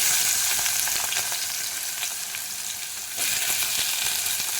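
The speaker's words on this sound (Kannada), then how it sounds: "ಸಣ್ಣದಾಗಿ ಹೆಚ್ಕೊಂಡಿರೋ ಒಂದು ಈರುಳ್ಳಿ ಹಾಕ್ತಾಯಿದ್ದೀನಿ." Finely chopped onion fries with cumin in a hot pan, giving a loud, continuous sizzle and crackle up close that dips briefly partway through, with no talking.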